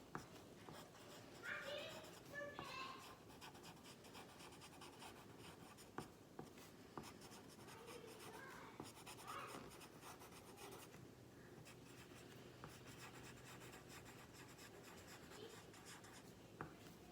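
A pen scratches and rubs across journal pages in quiet, uneven strokes, with faint background noises and no clear talking.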